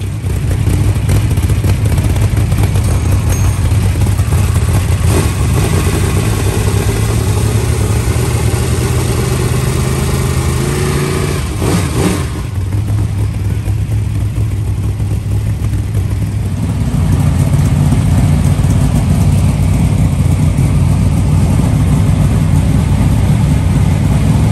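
A car engine just repaired after its alternator wires burned through on the exhaust runs continuously up close, a loud steady idle with brief rattles and a shift in pitch midway.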